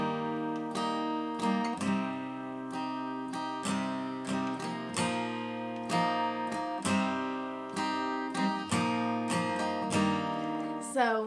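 Acoustic guitar strumming the chords of a song at a moderate pace: clear, close down-up strums in a steady rhythm with ringing chords changing every few beats, played alone.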